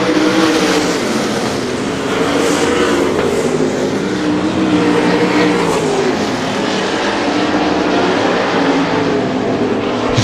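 410 sprint cars race on the dirt oval at Butler Battlegrounds in Quincy, Michigan, a loud, continuous roar of several engines droning and shifting pitch as the pack circles, with no voices heard.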